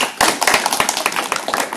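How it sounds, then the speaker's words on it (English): Audience clapping at a statistics conference session, a dense patter of individual hand claps close by, steady for under two seconds with no talk over it. "So, okay, you'll give him a round of applause."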